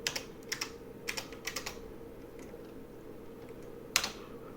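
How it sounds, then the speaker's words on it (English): Keys clack on an IBM 5150 computer keyboard in short bursts of close, crisp taps, with pauses between groups and a final sharper keystroke. "What if I just type in print hello?"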